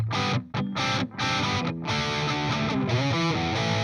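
Electric guitar played dry through a Peavey 5150 amp with an EarthQuaker Devices Dispatch Master delay-reverb pedal switched off, giving distorted, sustained chords and notes with brief gaps, loud and close, no ambience.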